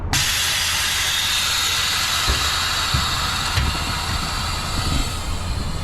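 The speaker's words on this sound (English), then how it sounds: "I'm gonna drop my axle for now." Loud, steady air hiss from a hotshot truck's lift axle being dropped, a broad continuous rush filling the whole stretch with a few faint knocks underneath and no voices.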